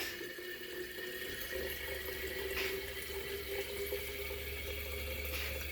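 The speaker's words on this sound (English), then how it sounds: "I'm filling the jar." Tap water pours steadily into a jar, a continuous close rushing stream with a faint rising tone as it fills.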